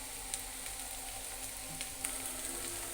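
Ghee-fried bottle gourd warms in a pan with a soft, steady sizzle and an occasional faint tick of stirring, quiet and close.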